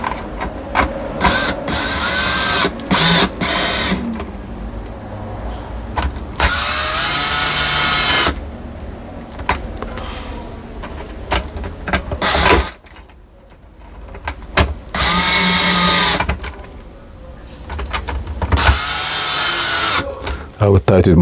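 Power tool tightening fasteners during a Mini Cooper FRM module repair, with repeated loud whirring bursts of varying length mixed with people talking and handling noises nearby.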